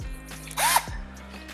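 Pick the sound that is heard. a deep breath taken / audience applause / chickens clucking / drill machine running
drill machine running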